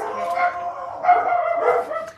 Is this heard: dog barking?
yes